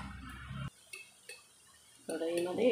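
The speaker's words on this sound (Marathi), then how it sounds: "गॅसवर मी दुसरी कढई ठेवते" A metal kadhai (wok) set down on a gas stove during cooking, giving a couple of short, close metallic clanks and scrapes against the burner grate, separated by a brief quiet gap.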